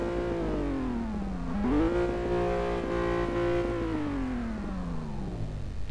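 A 2.5-litre V6 car engine in Test Drive Unlimited 2 hums steadily, dips, then revs up and holds a strong tone before easing down as it winds off; no talking.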